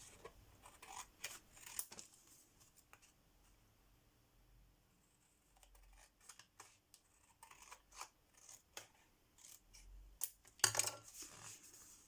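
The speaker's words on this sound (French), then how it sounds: "Moi, je fais ça au ciseau" Scissors cutting paper, with quiet scattered snips and crisp slicing strokes in short bursts with pauses between, close and faint.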